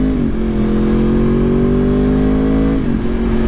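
A Yamaha R1 motorcycle engine holds a steady, loud, close drone whose pitch climbs slowly and then drops near the end. No one speaks.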